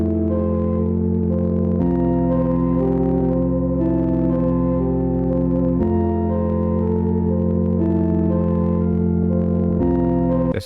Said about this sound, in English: Next, we have this high melody that joins in.